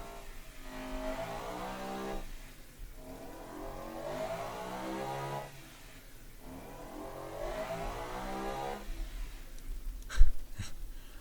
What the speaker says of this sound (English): This is a very silly engine, considering it's a naturally aspirated 6 liter.